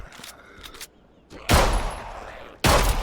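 Gunfire in the survival game HumanitZ: a couple of faint shots, then two loud sustained bursts close by, separated by a brief pause.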